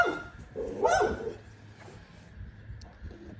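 Dogs bark in a backyard, a couple of loud, close barks followed by softer yips, with some faint talk and ambient noise around them.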